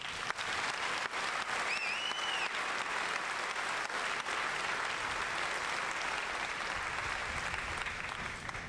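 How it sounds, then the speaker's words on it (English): Steady, dense applause from a large audience at a U.S. Army infantry graduation ceremony at Fort Benning, sustained and fairly distant for several seconds, with a brief faint whistle near the start. "Please give our newly minted citizen soldiers a round of applause."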